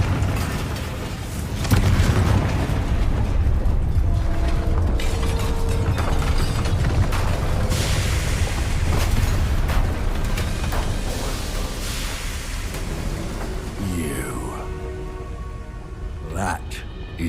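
Confringo fire spell blasting in Hogwarts Legacy, a loud, rumbling burst of explosive noise sustained for several seconds with crackling debris, mixed with game music and character voices speaking.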